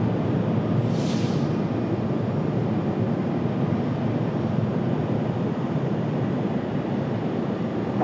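An airliner departing Raleigh Durham International Airport for JFK in the evening: a steady, loud engine roar that holds throughout, broad and continuous like a jet climbing out nearby.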